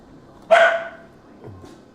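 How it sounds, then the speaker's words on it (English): A dog gives one loud, close, sharp bark, followed by a fainter, lower yip-like sound a second later, with quiet background otherwise. "Who you barking at?"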